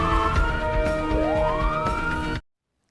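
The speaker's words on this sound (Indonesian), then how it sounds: "ambulan pun datang" An ambulance siren in the film Don 2 wails loudly and continuously, its pitch rising and sweeping with traffic noise beneath, then cutting off abruptly.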